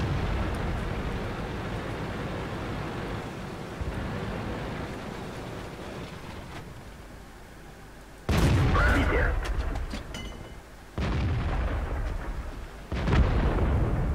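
Tank cannon fire in World of Tanks from an Object 416 medium tank destroyer, several loud booming shots with sudden onsets over a low rumbling engine drone, voices talking in between.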